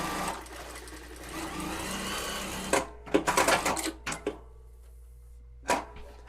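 A Bridgsew R8-S sewing machine runs a back-tacking stitch, a steady mechanical whir followed by a cluster of quick clicking bursts and a final short run, close and moderately loud.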